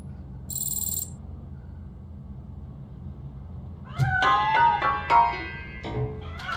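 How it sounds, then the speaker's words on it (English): Several plaintive cat meows from a cat hiding inside a piano in the video game RoboCop Rogue City, rising over a low ambient drone after a quiet stretch, fairly close and clear. "I think it's coming from the piano. That cat must be hiding inside."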